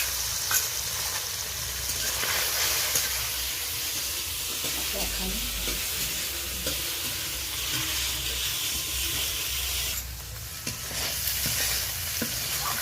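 Shrimp coated with salt and turmeric fry in hot oil with tempering spices in a pan, giving a continuous loud sizzle. Occasional stirring scrapes and clicks break through, with no talk.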